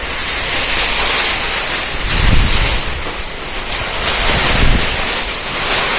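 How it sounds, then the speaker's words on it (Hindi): Heavy rain driven by strong wind makes a dense, continuous roar with gusty swells, rising and falling in waves over a few seconds with no voices. "बहुत तेज बारिश आई"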